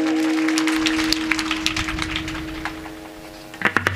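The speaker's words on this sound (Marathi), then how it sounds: "सगळ्यांसाठी तिघांसाठी जोरदार टाळ्या" A kirtan crowd claps for the hosts, a dense patter of hand claps over a sustained musical drone that swells briefly near the end.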